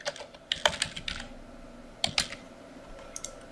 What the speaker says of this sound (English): I'll type that one out for us real fast